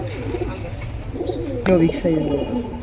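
Bengali Lal Patti domestic pigeons at a pigeon market give a few low, soft coos close by, over a steady murmur of crowd voices and background chatter.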